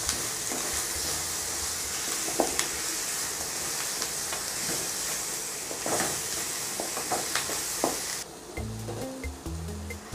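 Ingredients for a South Indian egg curry (kara kuzhambu) sizzle and hiss steadily in a hot pan while being stirred, with scrapes along the way; the frying cuts off near the end, leaving a few soft clatters.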